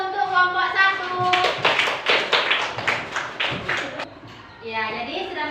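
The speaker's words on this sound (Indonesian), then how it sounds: "Kita beri aplaus dulu untuk kelompok 1." A class breaks into brief clapping for a group of students, a burst of many hands lasting a few seconds, with talk before and after.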